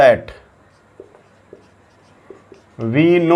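A maths solution is written out by hand, with a few soft, scattered taps and scratches in a quiet pause between stretches of talk.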